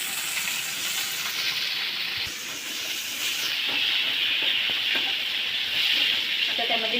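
Chopped onion goes into hot oil already frying with garlic and ginger in a Maharashtrian cauliflower-and-peas vegetable dish, giving a steady, loud hiss and sizzle that runs unbroken throughout.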